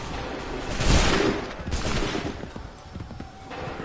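Musket volley in the video game Assassin's Creed III: a dense burst of overlapping gunfire swelling into a loud crackle, then a second rolling wave fading into scattered shots and rumbling battle ambience.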